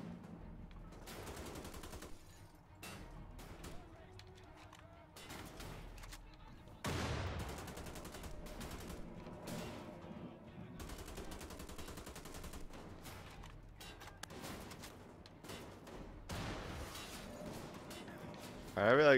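Rapid gunfire and machine-gun bursts in the shooter game Wolfenstein: The Old Blood, dense volleys running almost throughout at moderate level, with a louder surge partway and talk over the shooting.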